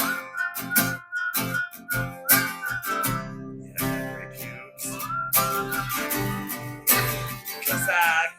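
A person whistles a melody close to the microphone, with bright, tonal phrases broken by short pauses and some background noise between them.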